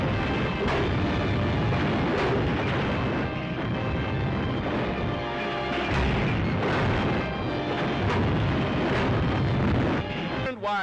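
Artillery fire and shelling in archival 1930s Chinese war newsreel footage, a continuous dense roar of heavy booms and rumbling explosions, loud and crackly with old-film noise and no clear gaps.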